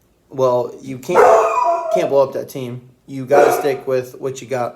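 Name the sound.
dog barking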